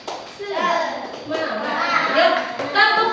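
Fourth-grade children in a classroom chanting together during a tepuk semangat clapping routine, their voices loud and close, with a few claps mixed in under the group chant.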